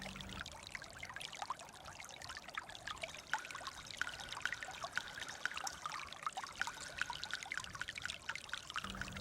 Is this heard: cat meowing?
no